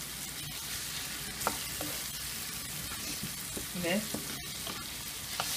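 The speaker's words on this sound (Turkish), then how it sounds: "güzelce hepsinin kavrulmasını bekliyorum." Food sautéing in a spoonful of butter in a pan gives a dense, continuous close sizzle with occasional stirring knocks, and a brief voice comes in partway through.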